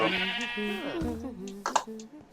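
A llama kept with horses in a video-game stable gives a drawn-out, bleating call up close, followed by softer stray noises.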